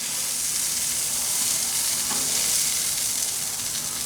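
Beer bratwursts sizzle in onion and beer on a gas grill outdoors, a loud, steady, broadband frying hiss that continues unbroken with a faint brief bubbling pop partway through.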